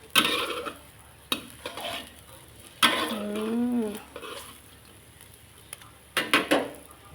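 Clattering utensil scrapes and clinks against a pan with faint sizzling as pork belly is stir-fried, coming in irregular bursts between quieter moments.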